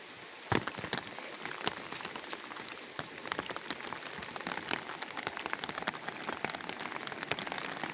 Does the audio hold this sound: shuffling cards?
no